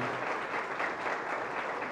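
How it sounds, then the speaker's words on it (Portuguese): An indoor audience at a book launch applauds, with dense, sustained clapping from many hands filling the room at a steady level throughout. "eu peço uma salva de palmas aqui para uma quantidade de pessoas que tem da União aqui"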